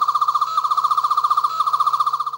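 A Doctor Who Wave 2 basic sonic screwdriver toy gives a steady, bright electronic warble that pulses rapidly and without a break, loud and close, with no talking.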